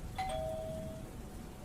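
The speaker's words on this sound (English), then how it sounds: "when the doorbell rang." An indoor doorbell gives one quick two-tone chime, a bright ding followed by a lower ringing tone that fades over a quiet room.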